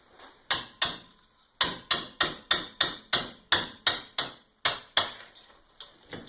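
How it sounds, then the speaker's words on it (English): Sharp metallic hammer blows on a wrench to break loose a bolt during a Volvo wheel bearing replacement, about fourteen in quick, fairly regular succession with a brief pause early on, loud and close, with no talking. "you may have to use a hammer or an adapter there to break it loose"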